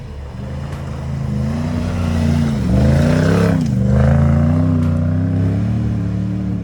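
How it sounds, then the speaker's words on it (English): A Lexus GX470's 2UZ-FE V8 engine runs close by with a deep, steady rumble, its pitch dipping and climbing briefly as it revs a little. "First thing I love is the V8 engine in the GX470."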